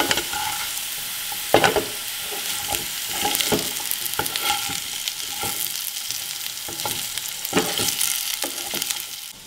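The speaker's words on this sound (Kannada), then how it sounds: "ನೋಡಿ ಆಲೂಗಡ್ಡೆ ಚೆನ್ನಾಗಿ ಫ್ರೈ ಆಗಿದೆ. ಸೊ ಬೆಳ್ಳುಳ್ಳಿ ಹಾಕಿದ್ರೆ ಒಳ್ಳೆ ಅರೋಮ ಬರುತ್ತೆ" Potatoes and crushed garlic frying in a pan make a loud, steady sizzle punctuated by repeated scraping stirs and clacks of a spatula, close up with no talking.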